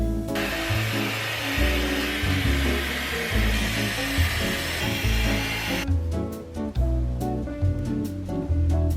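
A Dyson hair dryer blows with a loud, steady roar for about six seconds, then cuts off, leaving background music.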